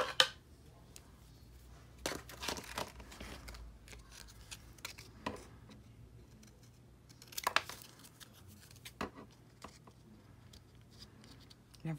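Scissors snip through cardstock for an Easter card in short bursts, with soft rustling and handling noises in between, close and fairly quiet.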